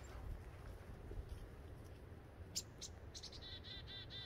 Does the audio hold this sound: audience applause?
no